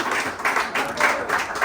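A small audience claps for a radio show team, with a short burst of applause pulsing in uneven waves over under two seconds.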